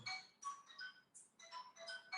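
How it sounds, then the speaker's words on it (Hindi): A phone ringtone plays a bright, repeating electronic melody in short tonal bursts, fairly quiet with no talking. "एक सेकंड में एक फोन आ रहा है, मैं उसको बंद कर देता हूँ फोन को."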